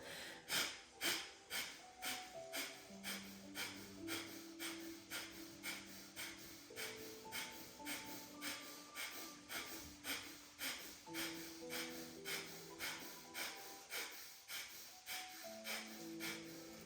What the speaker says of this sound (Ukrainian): Видихаємо носом, але видавлюємо животом.